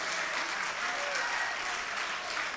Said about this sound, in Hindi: बजाइए आप तालियां।